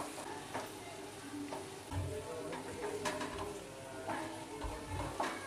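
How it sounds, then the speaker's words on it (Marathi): Ginger, garlic and onion sauté in a pan until soft, giving a quiet, steady sizzle broken by soft scraping stirs of a spoon, with no voice over it. "आता हे सर्व आहे ना आपल्याला परतून घ्यायचं आहे आणि कांदा आहे ना तो आपल्याला मऊ करून घ्यायचा आहे"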